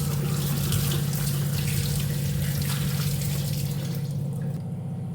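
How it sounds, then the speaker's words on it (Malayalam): A kitchen tap runs steadily into a sink while a sweet potato is washed clean of soil, a close, continuous splashing stream with no talking. "നന്നായിട്ടൊന്ന് കഴുകി അതിന്മേ മണ്ണ് അതൊക്കെ ഒന്ന് കളഞ്ഞ് നന്നായിട്ടൊന്ന് ക്ലീൻ ചെയ്യാം"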